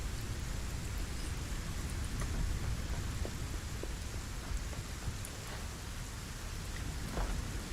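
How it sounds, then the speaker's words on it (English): Steady rainfall in the video game Satisfactory, a dense continuous hiss of rain with faint scattered drops and distant rumbles, with no talk. "I really do love the rain effects"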